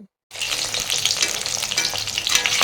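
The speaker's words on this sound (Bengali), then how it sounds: "এটা হচ্ছে ক্যাপসিকাম গুলোকে ভাজা হচ্ছে" Capsicum pieces frying in batter in hot oil, giving a steady, close, loud crackling sizzle that starts after a brief silent moment and keeps going with no voices.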